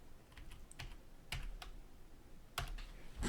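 Typing on a computer keyboard during spreadsheet-style program editing, a few sparse, close key clicks and taps in small clusters over a quiet background.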